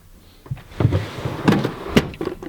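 A drawer sliding shut in the storage system of an overland vehicle, several soft knocks and a dull thud as it closes, heard up close with no talking.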